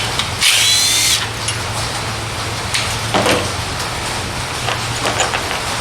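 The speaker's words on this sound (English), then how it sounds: "But I got one more stud I gotta cut down." A power tool grinding down an intake manifold stud on a 2001 GMC C3500, with a loud close high whine for about a second, then a steady buzzing drone and scattered hard scrapes.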